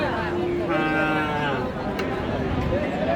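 Cattle, including Friesian and crossbred bulls and calves, lowing amid a busy crowd of voices at a livestock market, with steady market chatter and bustle filling the background throughout.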